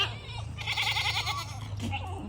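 Goats of a Deluish herd bleating close by in a quick, wavering cry over a steady low hum, a short bleat following near the end.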